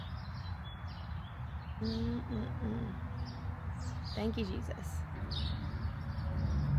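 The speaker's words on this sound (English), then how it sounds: "Listen to these birds chirping." Faint birds chirp and tweet in the background while a person talks nearby over a soft outdoor hum.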